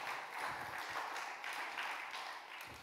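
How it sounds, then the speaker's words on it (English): A conference audience applauds continuously, a dense wash of clapping that stays fairly steady throughout, heard at a moderate distance. "Give yourselves a round of applause"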